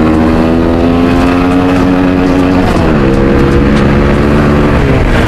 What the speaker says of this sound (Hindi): मैं हूँ भाई सजाद की बाइक पे एंड सजाद कर रहा है मेरी राइड